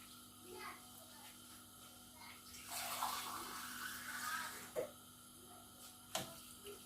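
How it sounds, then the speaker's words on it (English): Water poured from a container into a cooking pot while making ogbono soup, a soft splashing pour of a few seconds, close and moderately loud, with faint kitchen noise and a couple of clinks after. "a little bit of water."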